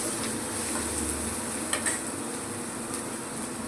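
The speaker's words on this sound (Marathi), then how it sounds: "चांगलं फ्राय करायचं हे." Food frying in a pan on a home kitchen stove: a steady, close sizzle runs throughout with faint scraping and stirring, and no voices.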